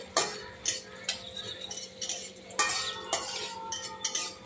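Spices for a taro leaf curry being stirred in a metal wok, with a spoon scraping and clinking against the pan in repeated strokes, close and fairly loud, alone without speech.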